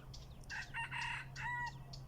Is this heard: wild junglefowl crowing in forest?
yes